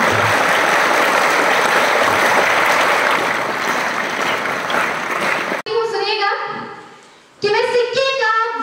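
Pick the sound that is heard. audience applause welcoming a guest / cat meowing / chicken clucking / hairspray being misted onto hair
audience applause welcoming a guest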